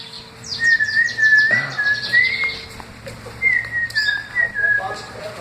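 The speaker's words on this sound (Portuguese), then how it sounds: "E canta e assovia ele, viu?" A man whistles a melody in long sliding tones, close and clear, with rapid bird chirps overlapping at the start and faint background noise throughout.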